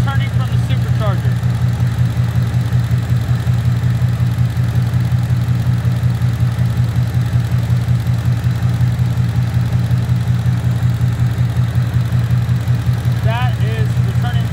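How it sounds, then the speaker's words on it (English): A supercharged 2019 Ford Mustang engine idles steadily with a loud, low continuous drone and a faint rhythmic pulse, while brief high chirps come and go near the start and end. "It's been idling for now about 10 minutes."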